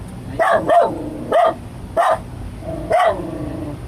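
Dog barking about five times in short bursts, a couple doubled, fairly close and loud over a low steady background hum, with no talking.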